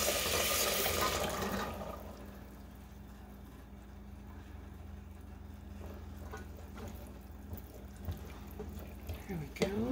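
Two cans of chickpeas and their liquid are tipped into a cooking pot. A splashing, gurgling pour is loudest at the start, then trails off into quieter sloshing and small clatters.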